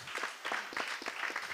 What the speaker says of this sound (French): Je vous propose qu'on s'applaudisse tous, vous et nous